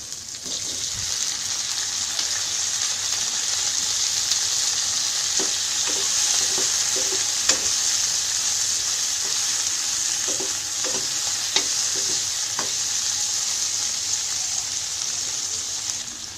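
Dried fish (shutki) frying in a pan, giving a continuous bright sizzle near at hand, with scattered light clicks of stirring throughout.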